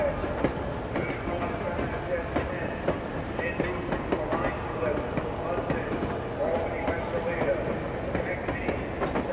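A cartoon train rolls along its rails with a steady rumbling clatter, running continuously beneath a narrator's voice.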